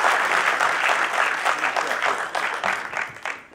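Audience at a film-industry tribute to actor Om Puri applauding strongly, a dense, close clapping roar that gradually thins and tapers toward the end.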